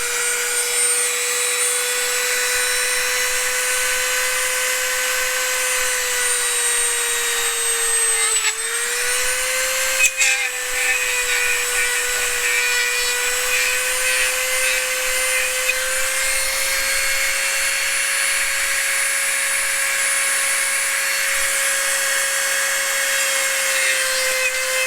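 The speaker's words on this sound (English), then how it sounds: "Don't tell me my Dremel's starting to die on me." A Dremel rotary tool runs near the microphone with a steady high-pitched motor whine. The pitch dips briefly partway through and then holds again, with faint grinding rubs under it and no talking.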